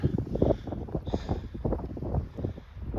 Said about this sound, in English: As the valley narrows up, the wind is getting stronger.